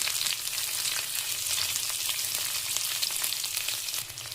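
Dried red chillies, curry leaves and sliced onion frying in hot oil give a steady, close sizzle with a crackling hiss that holds even throughout, no voices over it.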